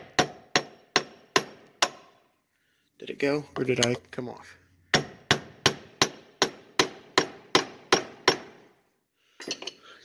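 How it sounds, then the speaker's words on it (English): Hammer striking a screwdriver to knock loose the steering shaft on a John Deere 110, 112 or 200 series lawn tractor: two runs of sharp, evenly spaced metallic blows, about fifteen in all, separated by a short spoken line. "you're going to have to bang it loose with a screwdriver and a hammer, like so"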